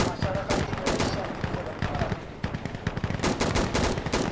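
Rapid bursts of automatic gunfire and single shots crack close and loud in a shooting video game, with voices of players talking over the firing.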